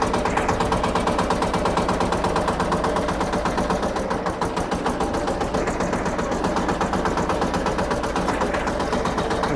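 A Shifeng SF240 BFLU mini tractor engine runs steadily nearby with a fast, even, chugging pulse and no talking.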